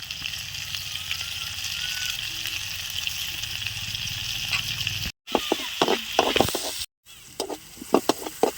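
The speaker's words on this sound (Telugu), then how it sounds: "ఇలా నూనెలో బాగా వేపేసుకుని కొంచెం మగ్గిన తర్వాత ఉంచుకోవాలి" Beans and other vegetables fry in oil in a pan for vegetable noodles, a steady close sizzle that gives way to sharp crackles and stirring clatter after two brief gaps.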